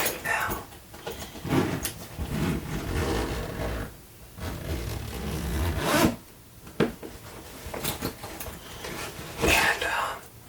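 A pilot's flight bag being unzipped up close, with soft zipper runs and fabric rubbing in several passes over about ten seconds, quiet and intimate, and no one speaking.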